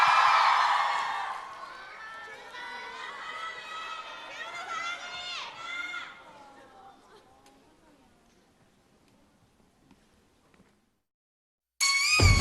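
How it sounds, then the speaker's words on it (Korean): At a K-pop solo showcase, an audience cheers with loud, high-pitched screams that swell and slowly fade into quiet, followed by a sudden loud burst at the very end. "박수 주세요."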